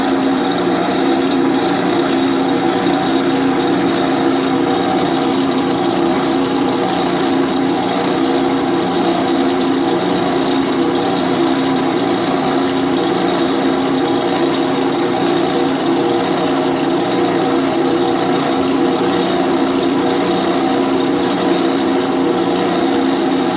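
Drill press with a freshly changed, oiled bit drilling completely through a part during a fastener repair lab, a loud steady motor whine with grinding cutting noise held at an even level throughout, no talk.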